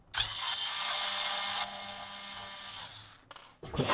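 A small power screwdriver whirs steadily and close for several seconds while backing case screws out of a Hikvision DS-7208HUHI Turbo 3 DVR, pausing briefly before a short second burst of whirring.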